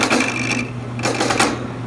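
A lathe spins a small knob at around 600 RPM, giving a steady mechanical hum with a few brief, sharper bursts as the corners are cut away.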